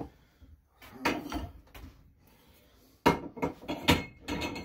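Metal tire spoons from Harbor Freight clanking and knocking as they are handled near a tire changer, in a few separate clusters of sharp metallic hits with quiet gaps between them.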